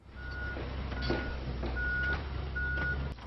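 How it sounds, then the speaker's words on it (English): A truck's reversing alarm beeps four times at a slow, steady pace over a low engine rumble, heard from a moderate distance at a residence hall construction site. "The construction of the new residence halls has created a lot of loud noise"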